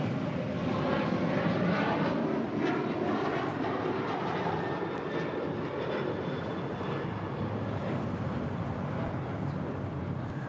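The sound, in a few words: Alaska Boeing 737 MAX 9 airliner arriving at LAX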